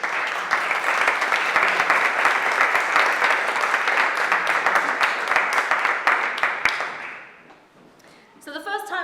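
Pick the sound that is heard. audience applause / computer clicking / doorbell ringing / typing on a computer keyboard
audience applause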